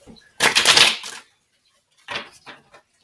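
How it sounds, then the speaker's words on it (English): Two bursts of crisp riffling tarot cards, stiff and tight, a long loud shuffle followed after a pause by a shorter, choppier one, close up with no talking. "We need to shuffle these. They're a little bit tight."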